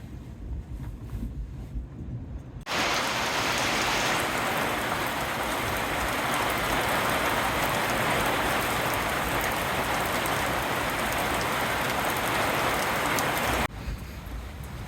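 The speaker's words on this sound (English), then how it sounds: "As the rain begins to pitter-patter, time for us to close up shop on cabin 4." Steady, loud rain pattering on the surfaces of a fishing-lodge cabin on Lake Nipissing, starting abruptly after a quieter windy stretch and holding a dense, even hiss until it cuts off near the end.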